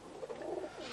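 Pigeons kept as stock hens coo softly inside a loft, a short, close, murmuring call with no voices over it.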